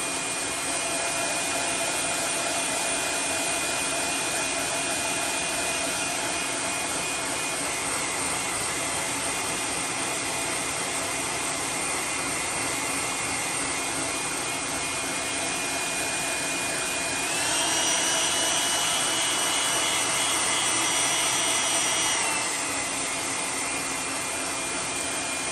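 A heat gun blows a steady, loud, continuous rush of hot air while heat-setting thin gloss black paint on a flat-sided Wiggle Wart fishing lure, with a slight change in tone partway through and nobody talking.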